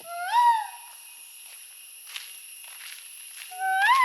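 A boy imitates a bird call: a high, sliding whistled call in two short bursts at the start and end, with quiet background between.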